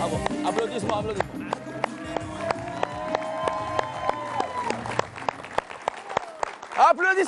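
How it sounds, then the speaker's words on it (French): Talk-show studio audience clapping and cheering on the set of "C'est à nous", with sharp scattered claps under music and a speaking host, loudest toward the end. "Applaudissements, applaudissements."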